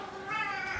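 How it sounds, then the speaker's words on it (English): A cat meows in the distance, a drawn-out, wavering cry that rises and holds for under a second, faint against a quiet room. "Sorry if you can hear my other cat in the background."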